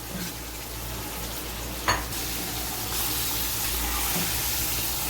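Chicken frying in a pot for pulao, with salt already added, crackles in a continuous loud sizzle and hiss, broken by a single sharp knock of a utensil partway through, and no one talks.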